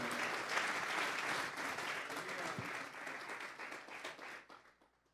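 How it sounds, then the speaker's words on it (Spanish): A church congregation applauding together during a sermon, dense sustained clapping from many hands in a hall that holds steady, then fades away over the last second. "Vamos a darle una ofrenda de palmas a Dios en esta hora"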